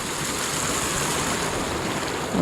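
Water rushing and splashing in a mountain creek along a wilderness hiking trail, a steady, close, broadband wash with no talk.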